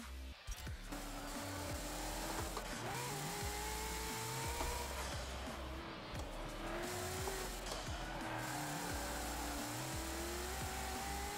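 A race car engine in Forza Motorsport 7 revs loud and continuous, pitch climbing and dropping through gear shifts, with tire noise layered over the constant engine roar.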